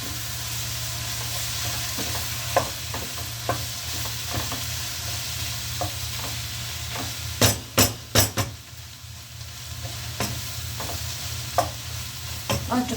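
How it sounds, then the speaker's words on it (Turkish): Corn flour being stirred in a pan with a spoon in a home kitchen, a steady scraping and swishing over a constant low hum, with a cluster of sharp metallic knocks of the spoon against the pan in the middle. "Şimdi bunu da karıştırıyorum."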